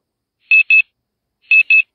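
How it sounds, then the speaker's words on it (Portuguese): A digital alarm clock beeps in two quick double bursts, each pair of high, clean electronic tones separated by a short silence, loud and close with nothing else around them. "Todos os dias acordavam com o barulho do despertador"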